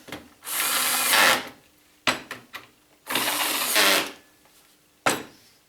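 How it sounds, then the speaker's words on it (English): A power drill used around TSO dog clamps in a workshop, whirring in two sustained bursts of about a second each, close and loud, with short clicks and handling knocks between the runs. "Drill."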